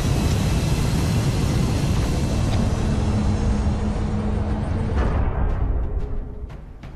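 A troop transport aircraft touching down in the strategy game XCOM: Enemy Unknown: a loud, continuous engine roar and rushing wind that holds steady, then thins and fades toward the end as the craft settles.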